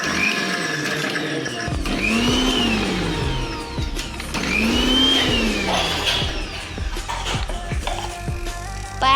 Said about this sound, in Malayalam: മിക്സിയിൽ ജാറുണ്ട് അടിക്കാൻ പോകുന്നു